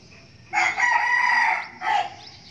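Red junglefowl rooster crowing close by, a loud extended call followed by a shorter second burst, with faint chick and background noise underneath; the birds are kept in a conservation setting with three-day-old chicks.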